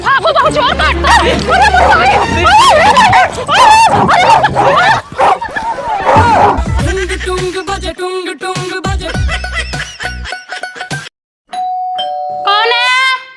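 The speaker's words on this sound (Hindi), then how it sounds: "दीदी कुत्ता आ रहा है पता नहीं किसका" A dog barks and yips near a house door amid loud voices, music and a doorbell chime, the barking scattered through the busy scene.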